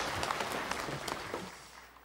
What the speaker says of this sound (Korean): 박수를 하나님께 드리겠습니다.